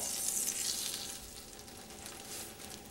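Ramen-crusted tilapia fillets sautéing in oil and butter, a steady soft hissing sizzle that is brighter at first and then settles to a quieter fry, with no talk.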